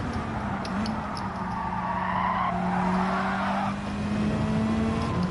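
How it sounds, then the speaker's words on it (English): Race cars in Gran Turismo 7 skid with sustained, wavering tire squeals that run over a continuous engine drone, fairly loud, with no talking. "Bit of skidding going on in the background"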